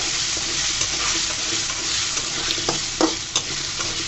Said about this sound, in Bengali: হলুদটা দিয়ে নাড়াচাড়া করে দিব।